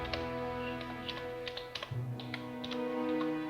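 Quick, irregular taps on a computer keyboard while a place name is entered into a web portal, a close run of light clicks over a steady hum, with no talk.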